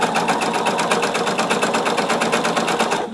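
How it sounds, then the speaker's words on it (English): Close, loud sewing machine running steadily while stitching a straight seam on a jacket sleeve slit, a fast even rattling whir that slows at the very end. "So I'm just going to sew a whole 3/8, and it's almost like I'm just going to sew a straight line."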